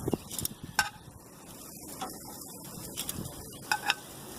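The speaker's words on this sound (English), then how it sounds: "get that bacon sizzling good" Quiet, close sizzling of frying bacon with occasional scrapes and clinks of a utensil stirring in the pan.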